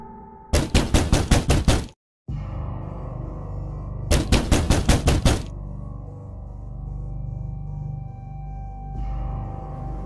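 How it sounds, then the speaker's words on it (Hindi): Two bursts of rapid, loud knocking on a door, each a quick run of about eight hard raps, separated by a short pause over a steady low background hum. "अरे ये दरवाजा कौन खटखटा रहा है?"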